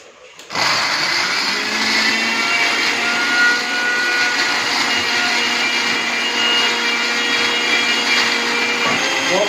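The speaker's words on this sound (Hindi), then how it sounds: "और फिर जो मिक्सी में पीस लूँगी।" A kitchen mixer grinder purees chopped beetroot, starting abruptly and then running as a loud, steady high-pitched whir.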